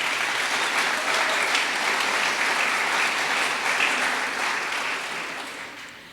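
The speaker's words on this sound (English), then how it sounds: "Give them another round of applause." Loud, sustained applause from an audience at the grand opening of Weingart Tower 1 in Los Angeles, steady clapping throughout that begins to taper off near the end.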